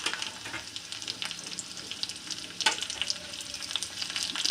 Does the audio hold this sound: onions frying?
yes